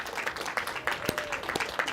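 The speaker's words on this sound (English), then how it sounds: "If we can give him a warm applause for Andrew." An audience claps to welcome photographer Andrew Scrivani at a book event, a thin scattered patter of applause with a few sharper claps standing out.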